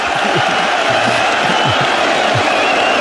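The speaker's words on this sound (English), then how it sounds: "He's trying to whip up the crowd, and he's succeeded, I think" Crowd at an England v India Test cricket match, roaring and cheering as a player whips them up; a broad, steady swell of many voices fills the clip without pause.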